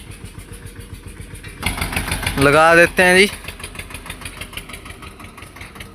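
An Eicher 241 tractor with a loaded trolley idles in a steady low putter that rises to a louder rev, while someone speaks over the engine partway through.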